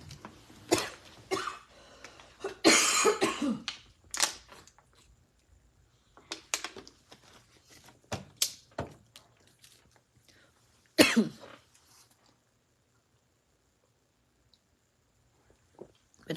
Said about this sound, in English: Been having coughing issues all week.